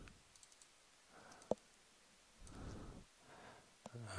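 A computer mouse clicks quietly while someone models a bridge in Maya, with one sharp close click, another faint one later and soft breathing between them.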